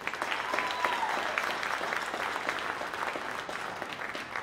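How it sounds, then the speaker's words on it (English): Moderate audience applause at a Providence College Jazz Ensemble concert, with steady clapping that continues evenly throughout and a faint tonal sound near the start. "How about a round of applause for Evan Starr?"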